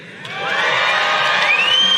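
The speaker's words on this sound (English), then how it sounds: "Can I get one more cheer?" A large crowd at a Fortnite LAN championship cheers and whoops loudly and steadily, swelling within the first half second and holding at full volume with shrill high shouts.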